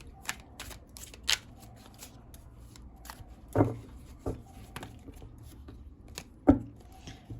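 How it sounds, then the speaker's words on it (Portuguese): A deck of thick cards being shuffled, with a series of soft riffles and sharp snapping bursts at uneven intervals, close and fairly quiet. "As cartas desse deck são bem grossas, sabe? Aí pra embaralhar fica difícil."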